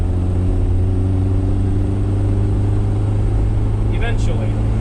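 A 1983 AMC four-wheel drive with a TorqueFlite 904 automatic accelerates at full throttle, its engine droning steadily and loud from inside the cabin, with a brief voice near the end.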